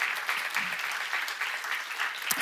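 An audience claps at a Korean church seminar on Genesis, a brief burst of fairly close applause that holds for a couple of seconds and then fades out.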